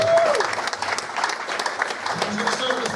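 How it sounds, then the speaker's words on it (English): An audience claps for a student comedian walking to the stage in a class setting. The applause is dense and steady, with a voice talking over it. "So keep clapping longer."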